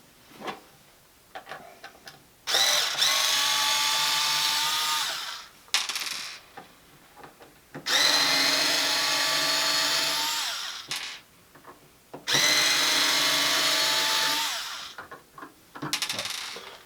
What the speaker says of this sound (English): nice little hand drill